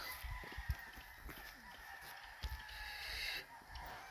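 Fighting cocks at a gamefowl farm in Murcia, Negros Occidental crow and cluck in short repeated bursts, fairly close, over a steady outdoor hum.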